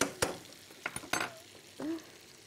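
Food being stirred in a sizzling pan, with a few sharp scraping and clinking strokes of a utensil against the metal, spaced irregularly and fairly quiet.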